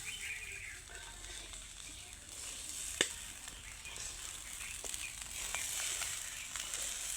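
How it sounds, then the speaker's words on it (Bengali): Steady, hissing sizzle of rice frying in a hot pan on a clay stove, with an occasional sharp scrape or clink of a utensil. "এভাবে আমরা ভেজে নিচ্ছি"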